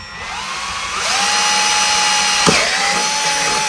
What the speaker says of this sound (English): This stuff is super easy to drill.